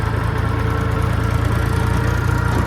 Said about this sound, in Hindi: ट्रैक्टर ଟିକେ ଭଲ ସେ ଚାଲୁଛି।